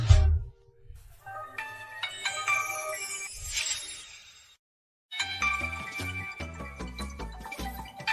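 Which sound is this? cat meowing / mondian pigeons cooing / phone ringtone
phone ringtone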